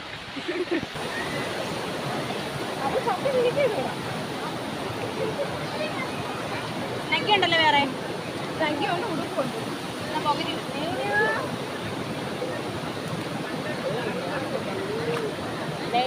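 Water rushes steadily in a stream at Ponmudi where friends bathe, a constant broadband wash close by, with people talking over it and brief splashy bursts.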